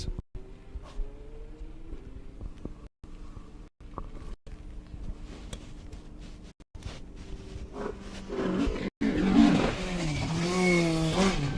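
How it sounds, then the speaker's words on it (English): A rally car on a wet stage at the Mull Rally approaches after several quiet gaps, its engine rising to a loud, revving pass with changing pitch near the end. "the next car is just coming towards us now"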